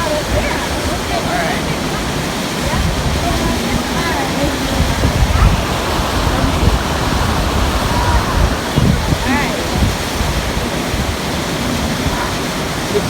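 Waterfall at a cool, spray-filled spot, roaring steadily and close with broad, continuous rushing and splashing water that fills the whole scene, with faint voices mixed into the torrent.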